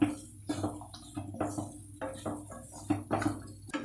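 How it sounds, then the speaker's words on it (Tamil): Boiled green peas being stirred and sautéed in a pan for a peas sundal snack, irregular scraping and knocking of a spoon against the pan at close range, with no talk. "அடுத்து நம்ம வேக வச்சு எடுத்து வச்சிருக்க பட்டாணியை இதோட ஆட் பண்ணிக்கலாம். நல்லா வதக்கிக்கோங்க ஒரு 5 மினிட்ஸ்க்கு."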